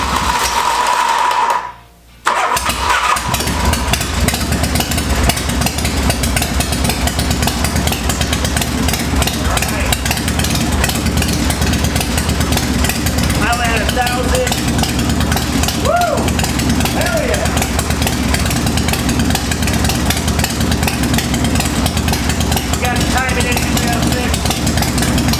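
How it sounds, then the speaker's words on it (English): Harley-Davidson FXR motorcycle engine cranks over and fires, then runs with a loud, steady, rough idle for over twenty seconds, a brief gap near the start before it catches. "I'm stoked to hear this motor turn over."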